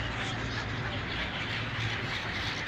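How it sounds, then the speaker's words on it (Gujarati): A dense chorus of birds calling together at a riverside ghat by the sea at Prabhas Patan, over constant loud outdoor noise, with no clear talking. "પક્ષીઓ નો કલરવ"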